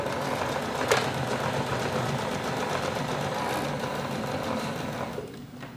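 A sewing machine runs steadily, stitching three forward and three backward to lock a newly changed thread, a close continuous mechanical whir that fades slightly near the end.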